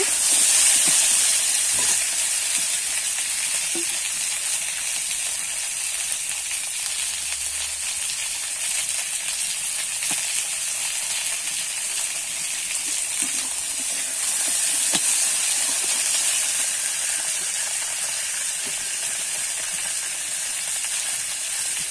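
Potatoes and drumstick stalks stir-fry in a pan, a steady bright sizzle and hiss running continuously without a break, with faint scrapes now and then.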